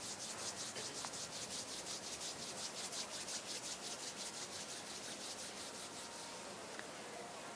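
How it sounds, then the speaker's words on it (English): Two palms rubbing gently and steadily against each other at chest level during a meditation session, a soft continuous swishing friction with a faint rhythmic pulse, close and alone with no talking. "bring the hands together at chest level and rub them gently against each other"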